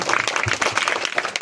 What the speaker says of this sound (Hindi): तालियां हो जाए आप सभी की